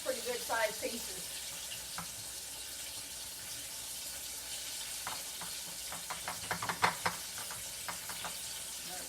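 Pieces of crappie fish frying in a pan, a steady bright sizzle filling the whole clip with a few sharper crackles and spits near the end, close and fairly even in loudness.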